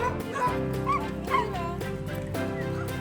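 A blind dog in a busy animal shelter whimpering in high, wavering whines broken by a few short yips and barks, close by, with a voice speaking softly over it.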